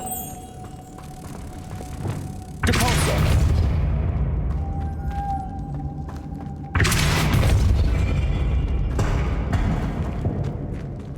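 Two heavy booming impacts from the Depulso force spell in Hogwarts Legacy land about four seconds apart, each loud and close with a rumbling decay.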